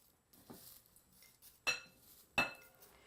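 Mason jars and their lids handled and packed, giving a few soft glassy clinks and two sharper, louder knocks close by, spaced apart, with no talking.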